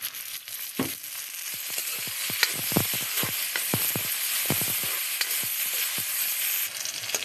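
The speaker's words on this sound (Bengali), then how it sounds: "আমার রসুন ভাজা হয়েছে" Boiled garlic fries in a little oil in a village kitchen with a steady crackling sizzle, punctuated by a rhythmic series of sharp spatula taps against the pan.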